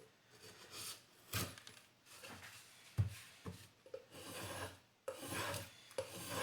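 Knife blade rasping as it shaves very small strips off material, a series of scraping strokes of uneven length with brief pauses between them, close and fairly quiet.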